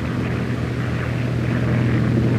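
The single radial engine of a Grumman TBF Avenger torpedo plane drones steadily, a loud, continuous propeller roar with a deep low hum, heard alone without talk.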